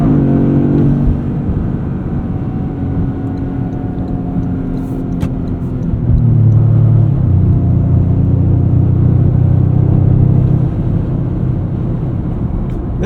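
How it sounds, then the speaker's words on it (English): A Toyota GR Corolla engine runs loud and near, holding a steady high drone before dropping and bouncing against the rev limiter in repeated pulses, with no talking. "And you can bounce off the rev limiter."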